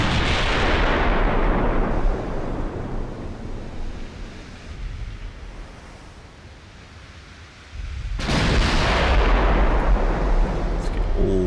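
Battleship guns firing in the naval game Ultimate Admiral Dreadnoughts, with a heavy booming salvo that rumbles and fades away, then another loud blast with a long roaring decay, close and alone.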